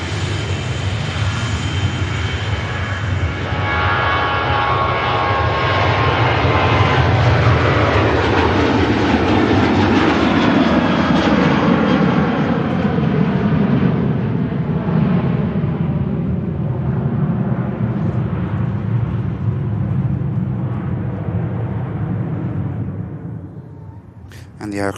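An aircraft on its takeoff roll at Manchester Airport, bound for Carcassonne: a loud, sustained engine roar with a rising whine that slowly fades as the plane pulls away.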